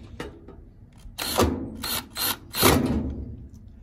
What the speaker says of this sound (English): our screw gun so that it's going righty-tighty.